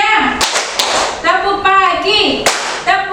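Sharp hand claps and taps keep a chant rhythm in a classroom clapping game, several distinct hits spread through the clip while voices chant over them.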